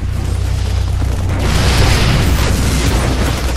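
Siege tanks in StarCraft II shelling a Protoss Stalker, a dense, continuous rumble of booming explosions and heavy impacts that swells louder midway and stays loud, with no talking.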